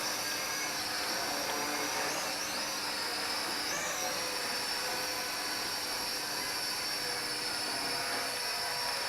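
An HT F802 quadcopter with greased gears flies nearby, giving a continuous, even high-pitched whine of small motors and propellers that holds steady throughout with slight pitch shifts, no voices.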